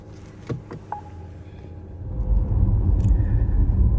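A Porsche Taycan electric car pulls away: a few light clicks and a brief whirr, then a steady low road rumble builds and holds as it gets moving.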